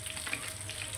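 Rohu fish pieces fry in hot oil in a pan, a dense continuous close sizzle with no break.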